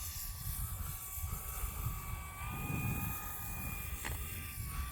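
An E-flite P-51D Mustang 1.5m RC model plane on landing approach with flaps lowered and throttle kept on, its electric motor whining steadily overhead at a moderate distance, pitch shifting slightly as it passes, no voices.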